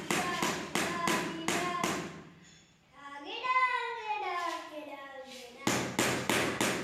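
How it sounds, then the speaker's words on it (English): A rubber mallet tapping a 2x4 laid across newly set tiles on mortar: a run of evenly spaced sharp knocks, a pause filled by a voice, then more steady taps. "place a 2x4 lumber on top and tap it slightly with a rubber mallet"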